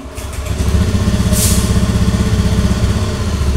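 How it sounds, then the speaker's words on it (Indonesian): Automatic scooter engine with hard-starting trouble catching and settling into a steady idle, a close, loud, even low putter running throughout with a brief higher whir near the start. "Oke, nyala stasioner."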